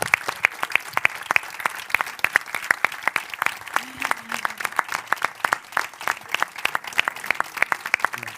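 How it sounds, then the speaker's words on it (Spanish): Applause for actress Amparo Soto at a book presentation of Las chicas de oro at the Academia de Cine, with a moderate crowd clapping in a steady, evenly paced rhythm that carries on without pause. "darle un homenaje y darle sobre todo el aplauso"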